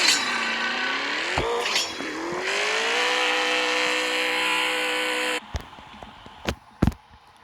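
McLaren in the racing game CSR Racing launching off the line: a loud engine revs, rising through gear shifts in a long, steady high-pitched whine with some tire noise, then cuts off into a few sharp clicks and thumps.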